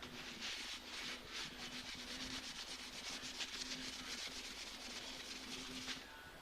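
A rag wipes heavy grease and degreaser off the underside of a metal part, a repeated soft scrubbing rub in quick strokes, close and fairly quiet.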